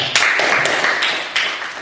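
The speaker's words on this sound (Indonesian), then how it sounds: "Tepuk tangan untuk Angel." Classmates clap for a student who has just presented in class, a short, fairly close burst of mixed applause with a few sharper claps standing out.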